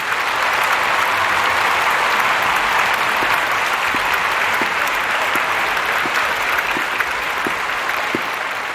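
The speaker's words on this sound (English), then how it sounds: "So why don't we give her a round of applause?" A studio audience applauds a guest's welcome onto a show with sustained, even clapping that carries on steadily from start to finish.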